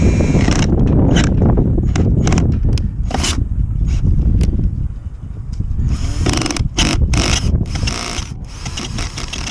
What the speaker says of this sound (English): I got some 220 grit screen paper here